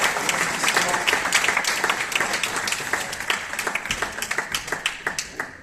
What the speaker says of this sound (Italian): Grazie Aldo, un applauso.